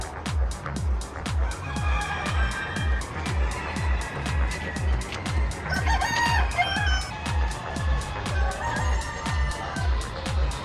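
Brown, black, white and two-tone chickens cluck in cages at an Easter show animal section, with a rooster crowing in the middle, steady and close against a rhythmic mechanical thumping.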